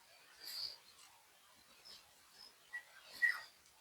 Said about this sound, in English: let you listen to the birds